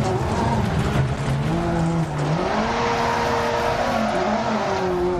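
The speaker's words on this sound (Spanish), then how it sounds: "Madre mía, qué derrape ahí" A rallycross car in Dirt Rally 2.0 slides through wet mud on damp asphalt at Silverstone, its engine droning steadily at high revs while the pitch dips and climbs during the skid.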